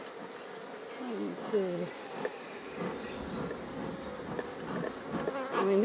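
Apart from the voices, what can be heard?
honeybees buzzing in an opened hive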